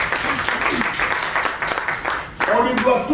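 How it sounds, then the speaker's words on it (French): An audience applauds the arrival of Professor Mamoussé Diagne at his inaugural lecture: dense, steady clapping fills the room before a voice starts talking over it near the end. "je voudrais qu'on l'applaudisse véritablement"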